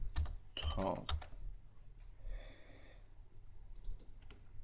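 Fingers tap out quick bursts of keystrokes on a computer keyboard, close and clear, with short pauses and a soft breath between runs of typing.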